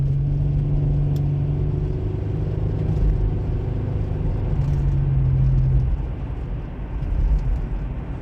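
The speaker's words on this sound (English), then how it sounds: "Attempting a hard launch." A 2009 Nissan Murano SL pulls away in a hard launch in traffic, its engine rumbling steadily with a rising tonal drone for several seconds, then easing off into road rumble.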